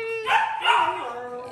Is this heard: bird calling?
no